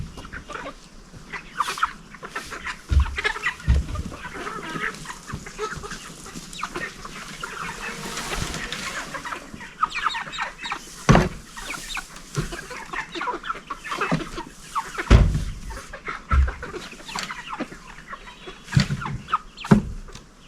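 Heavy meat chickens, bred for rapid weight gain, cluck and murmur nearby for a sustained stretch, with occasional louder squawks and thumps among the flock.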